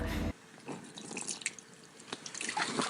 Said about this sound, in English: Pour some water on his face.